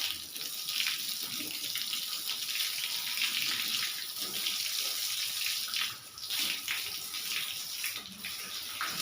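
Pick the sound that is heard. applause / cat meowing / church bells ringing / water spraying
water spraying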